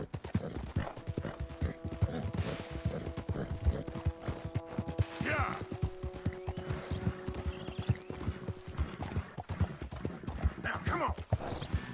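Rhythmic hoofbeats of a galloping horse in a PS4 video game, with the game soundtrack's sustained tones and a person speaking over it now and then.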